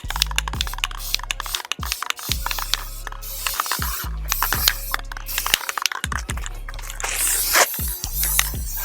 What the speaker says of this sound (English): Had a little bit of flat black spray paint, just kind of pretty it up a little bit.